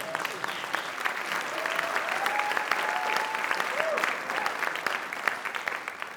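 A keynote crowd at Waves '24 claps in a sustained, moderately loud wash of applause, with a few voices and whoops rising above the clapping.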